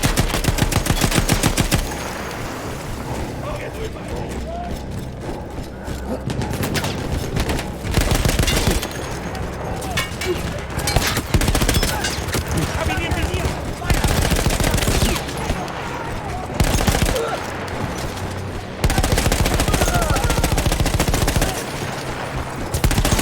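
Sustained machine gun fire from Battlefield 1 on an Italian front with Austro-Hungarian troops: long, loud rattling bursts broken by brief pauses, dominating throughout.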